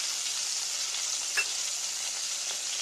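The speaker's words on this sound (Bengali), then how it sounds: "এইখানে দিয়ে দিচ্ছি কালো জিরে আর সামান্য সর্ষে ফোড়ন।" Black cumin and mustard seeds fry in hot oil for a tempering in a prawn and cucumber curry, giving an even, hissing sizzle with a faint pop, no voices.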